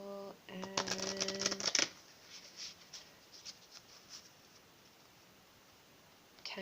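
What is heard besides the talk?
shuffling tarot cards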